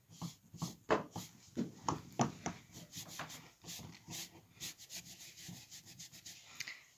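A damp sponge rubs wax-resist slip off a pottery piece, giving irregular soft scrubbing strokes, close and fairly quiet, with no talking.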